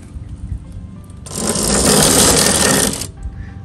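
Vevor 48 volt brushless DC motor kit running in reverse, a harsh rattling grind that kicks in suddenly, holds loud for under two seconds, then cuts off, with quiet background before and after.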